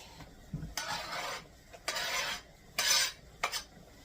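A spoon scrapes and stirs lasagna filling in a pan in several distinct bursts, each a short scrape of a second or so with quiet pauses between, close up and with no talking.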